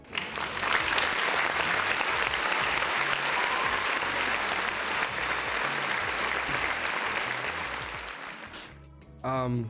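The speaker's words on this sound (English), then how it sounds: "one more round of applause for the folks in the chat" Sustained round of applause from a crowd, dense and steady for several seconds before abruptly cutting off, followed by a brief voice at the end.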